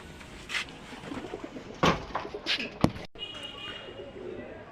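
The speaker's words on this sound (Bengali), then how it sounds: "আর আমাদের কবুতরগুলি সব এইখানে বর্তমানে।" Domestic pigeons in a loft, with soft cooing and a few sharp knocks and fluttering movements nearby over a steady low background.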